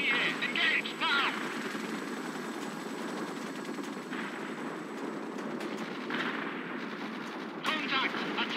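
Distant gunfire and booming artillery roll steadily beneath the battlefield in the video game World in Conflict, with occasional radio-style voice callouts over the rumble.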